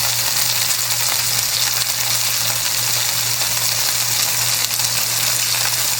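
Butter melts around shrimp in a hot pan, making a loud, unbroken sizzling hiss over a low steady hum, with no talking.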